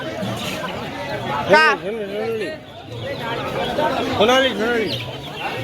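Chickens cluck and squawk amid a busy crowd at a livestock market in Birnagar, with ducks present, people talking throughout and bursts of louder bird calls standing out.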